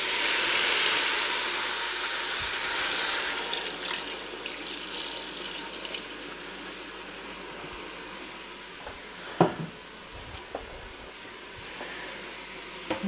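Water poured into a pressure-cooker pot holding pork and chicken stock powder for pulled pork, a steady splashing rush that fades over several seconds, with a few light knocks near the end and no talking.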